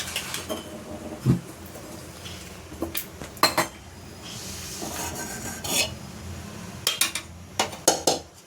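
Metal pots and utensils clink and scrape on a kitchen stove while gulab jamun is made at home, scattered sharp knocks and rubbing sounds, close but fairly quiet, with no talking.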